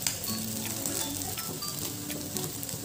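Tikki patties sizzle steadily in a pan as they fry to a golden colour, a close, even crackle with small clinks, and no voices.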